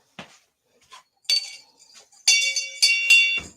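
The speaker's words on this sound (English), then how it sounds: "It sounds like a cowbell." A small metal bell, resembling a cowbell, is shaken in a few bright, ringing clinks, then rung more firmly in three close, sustained strikes with metallic overtones, near and fairly loud.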